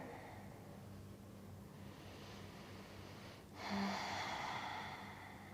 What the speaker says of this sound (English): Take a couple of deep breaths here.